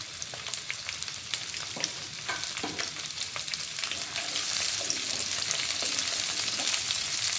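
Cut okra hits hot oil and fries in a pan, a dense crackling sizzle that grows fuller and louder over the seconds, with a few scraping stirs and clicks near the start.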